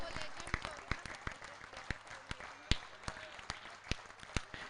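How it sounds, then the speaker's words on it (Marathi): Sharp, scattered claps ring out at a cricket match for the RCA Legends team, arriving in a loose, uneven beat beneath a loud announcer speaking over a public-address system with steady crowd noise. "जोरदार टाळ्यांचा गजर झाला पाहिजे या लेजंड साठी"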